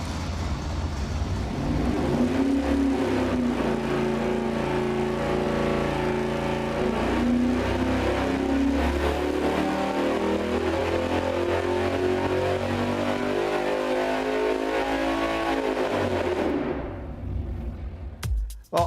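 A V8 performance engine roars on a dyno, climbing in a long sustained rev at full load for about fifteen seconds, then cutting off sharply into a quiet wind-down.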